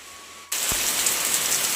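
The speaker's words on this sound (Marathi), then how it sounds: "पावसाचा जोर वाढलाय आता. कधीपासून पाऊस पडतोय." Heavy rain suddenly pours down in a dense, steady hiss after a brief quiet moment.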